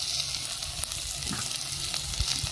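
Chopped carrots hit hot oil in a pan and fry with a steady close sizzle, with a few light scrapes and clinks over the continuous crackle.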